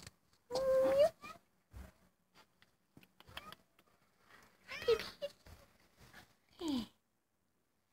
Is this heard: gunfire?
no